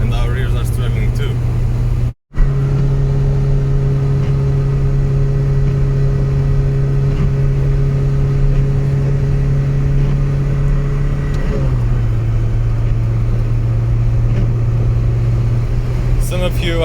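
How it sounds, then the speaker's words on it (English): A Citroën BX engine strains on a road as the car drives, a loud, steady droning hum inside the cabin that drops briefly and shifts pitch downward partway through. "This engine is struggling and our rears are struggling too."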